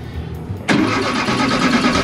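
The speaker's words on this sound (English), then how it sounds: "Let's test this and see if the engine will run now." A car engine, just fixed for a lean fuel condition, cranks and catches abruptly, then settles into a steady loud running note close by, with no talk over it.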